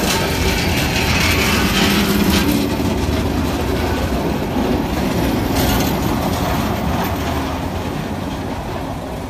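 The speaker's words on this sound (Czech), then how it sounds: "Přátelé, tady je lokomotiva." A train hauled by a locomotive rolls through Brno with a loud, steady rumble and rattling wheel noise close by. Faint squeals rise over it and fade slightly toward the end, with no voices.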